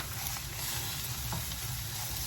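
Onions and flour frying in vegetable oil give a steady, close sizzle with light stirring scrapes, continuous and fairly loud with no talking.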